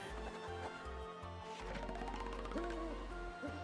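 An owl hoots in a video game, a few rising and falling hoot tones standing out over steady game music and low rhythmic pulses.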